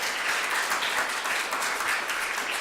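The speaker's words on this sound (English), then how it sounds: "So everybody give a round of applause to Ben Paddock." Steady crowd applause at a December tech meet-up, dense clapping from a small audience filling the room at even loudness throughout, with no voices over it.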